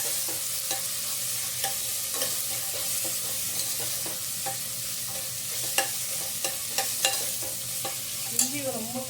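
Ginger garlic paste frying in a pan for Karnataka-style bisibela bath crackles in a steady close sizzle, with repeated clicks from stirring and no talk.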